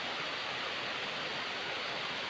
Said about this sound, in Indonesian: ini air terjun pertama